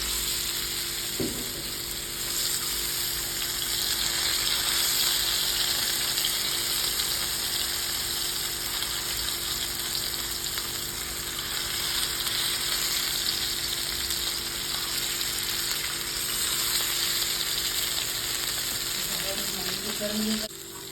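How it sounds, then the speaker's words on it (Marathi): Wam eel fish frying in a pan gives a steady, loud, close sizzle that carries on without pause, with a single knock near the start and faint clinks toward the end. "लास्ट आपण जी फ्राय करणार आहोत ती वाम आहे"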